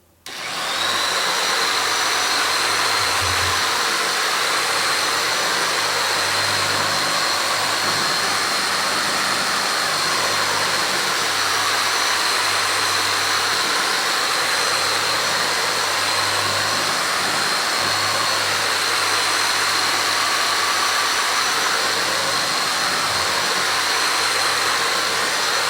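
A carpet pre-brush cleaning machine roars continuously and loudly for the whole stretch, a steady high whine with a low rumble, switching on abruptly at the start and running alone without talk.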